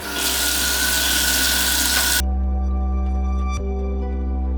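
Cold tap water runs hard into a sink for washing a curly synthetic wig, a loud close rushing stream that suddenly cuts off partway, leaving a low steady hum and faint drips.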